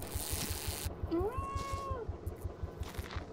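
A single cat meows once in the horror game Greyhill Incident, a clear rising then falling cry over a pulsing low rhythmic background, fairly quiet and close.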